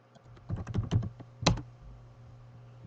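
Typing on a computer keyboard: a quick close burst of key clicks, a brief pause, then one louder keystroke, in a quiet room with no talking.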